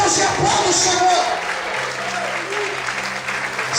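A church congregation claps together during a sermon, a dense, steady wash of applause in a reverberant hall, while a voice carries on speaking over it.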